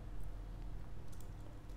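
Someone types a command on a computer keyboard with a soft, rapid run of keystrokes. The clicking is faint and continuous against a low background hum.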